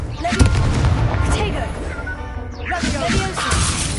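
Explosive booms from the Confringo fire spell in the video game Hogwarts Legacy, with a couple of heavy bursts and crackling debris, mixed with a speaking voice.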